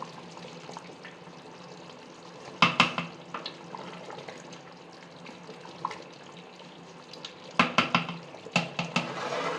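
Bubbling and sputtering from a pot of rice at a rolling boil for chicken biryani, with brief clusters of louder pops and crackles, close by and without any talk.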